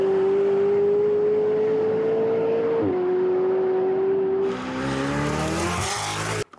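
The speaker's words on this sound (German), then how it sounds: "So, McLaren vorne und McLaren rollt. Und McLaren Ladedruck." McLaren 720S pulling hard under turbo boost in a race against a Tesla Plaid: a loud, sustained engine drone climbing steadily in pitch, then a gearshift dip and a rougher, brighter surge of speed noise.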